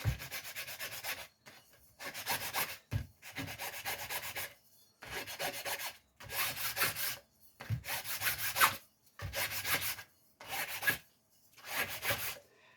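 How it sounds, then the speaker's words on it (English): Sandpaper is rubbed across a homemade guitar-building tool on a flat surface in about nine rhythmic back-and-forth strokes, each roughly a second long and separated by short pauses. Close and clear, with no talking. "took me about 10-15 minutes of playing with the sandpaper like this"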